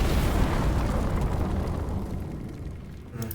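A fire grenade upgraded to maximum level five explodes in the video game Deep Rock Galactic: Survivor: one loud, deep, rumbling blast that slowly fades over a few seconds, with no voices.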